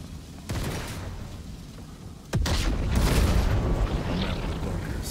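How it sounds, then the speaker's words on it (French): A sudden loud blast in Sniper Elite 5 breaks over steady game ambience, followed by a sustained rumbling, crackling roar, with an earlier sharper crack before it. "Ça explose ou quoi là? Ah, c'est explosé tout seul"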